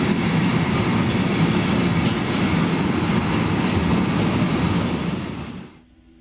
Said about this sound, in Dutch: Deze trein gaat ook richting Saarbrücken.